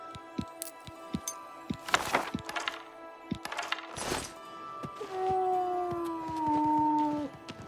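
Dogs in the fantasy video game Oblivion let out drawn-out, wavering howls that rise and fall together near the end, preceded by scattered dull thunks and footstep-like knocks, with no speech.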